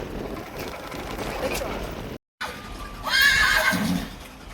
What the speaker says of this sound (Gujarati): હા ઘોડો એ અહીંયા લઈ તો ઉભો રે, બળ કરશે બહુ જાજુ.